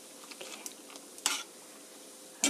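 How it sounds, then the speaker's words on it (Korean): Quiet scraping and light clinks of a utensil in a pan while frying for spaghetti with scrambled eggs, with a soft sizzle underneath and a couple of sharper stirring scrapes. "잘 볶여지니까 이렇게 노릇노릇하게 볶아주세요."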